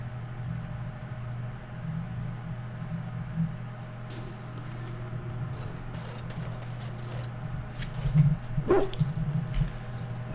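A mabari war hound, a large fighting dog in the fantasy role-playing game Dragon Age Origins, gives a few short whimpering yips near the end, heard over a steady low game ambience and faint clicking mechanisms.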